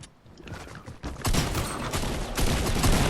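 Bursts of gunfire in the video game Fortnite, sparse shots at first, then a loud dense volley and sustained rapid fire, close and crowded with no talk.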